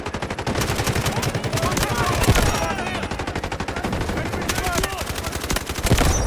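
Rapid automatic gunfire in the Delta Force shooter game, loud and close, with dense bursts of shots and casing-like metallic clinks running continuously throughout.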